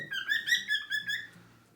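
Budgerigar chick in a nest box giving a bright run of warbling chirps and whistles, close and fairly clear, with a quiet low murmur beneath and the calls fading out at the end.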